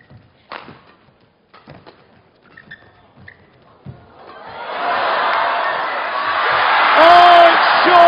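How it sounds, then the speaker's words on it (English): A badminton crowd at the Hong Kong Open reacts to a missed short shot, with a swelling roar of voices that builds loud and sustained over the arena after scattered thuds. "And you can hear what the crowd think of that."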